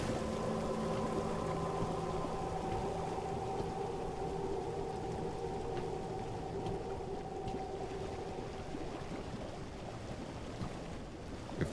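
Water rushing and churning steadily as it floods a cistern in the video game Warhammer Age of Sigmar: Tempestfall, a continuous loud wash with a low droning tone, with no speech.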